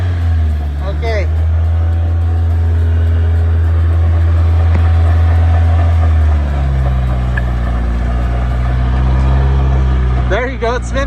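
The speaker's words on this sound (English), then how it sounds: "Put it on first gear and see the wheel spin." A car engine runs with the transmission in first gear and a jacked-up wheel spinning freely, a loud steady low drone whose pitch drops partway through, while people talk over it near the start and end.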